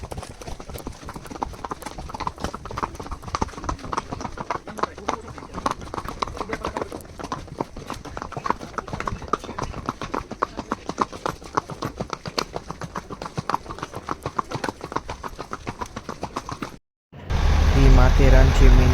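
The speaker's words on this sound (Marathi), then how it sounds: "तीन तास आम्ही घोड्यांवर फिरलो खूप मजा आली परत आम्ही रिटर्न मार्केटला चाललो आहोत" Horses' hooves clip-clop in a steady, close rhythm on a horse ride through Matheran, continuing for most of the stretch before a brief break and a louder, different sound at the end.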